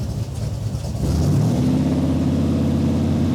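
Shelby Cobra V8 engine rising from idle to a steady held rev near 2,000 RPM, a loud close low rumble that swells and then holds.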